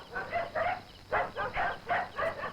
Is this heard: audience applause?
no